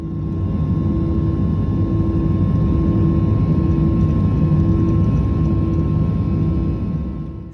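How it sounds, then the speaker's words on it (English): Steady, loud airplane engine drone fills a passenger cabin, a constant low roar with a faint steady tone above it, unbroken and with no talk. "So, yep, back in the plane, sadly."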